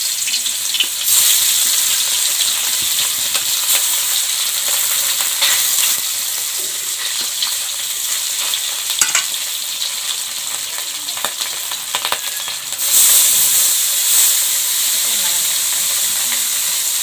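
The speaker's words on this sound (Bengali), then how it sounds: "আবারও তেল নেব, বাকি মাছগুলো ভাজবো।" Small fish frying in hot oil in a kadai for a traditional small fish curry, a steady loud sizzle and crackle running the whole time with occasional stirring scrapes and brief swells.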